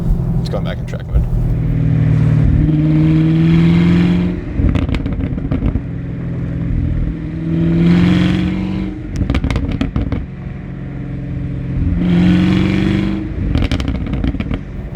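Repeated loud revs from a 2019 Chevrolet Camaro 1LE in track mode, the dual sport exhaust rising in three or four bursts with sharp pops and crackles between them, close by, with talk mixed in.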